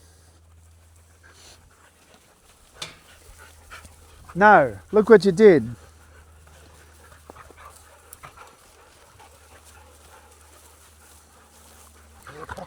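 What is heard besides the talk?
Dutch Shepherd dogs panting and whimpering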